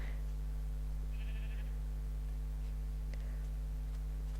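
A sheared sheep in Minecraft gives a short, faint bleat, followed by quieter bleats later, over a steady low electrical hum.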